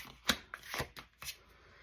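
Tarot cards being shuffled in several quick riffling bursts, each a short papery flutter with brief pauses between, close and fairly quiet, with no talking.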